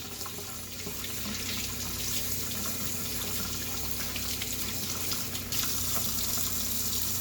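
Tap water runs steadily over nitro RC engine air filter elements from Traxxas and Kyosho cars while they are rinsed, a constant close hiss with no talking.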